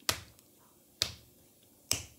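Children in a third-grade music lesson clap along to a song, three sharp, evenly spaced claps about a second apart, crisp and close against a quiet room.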